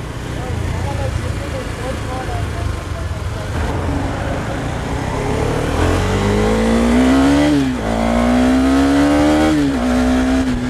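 Husqvarna Vitpilen 250 motorcycle engine running while riding, a steady roar that climbs in pitch as it revs up, loud and close with wind noise.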